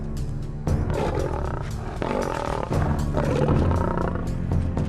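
Deep, rumbling lion roars come in long, overlapping waves, loud and close, with no voices.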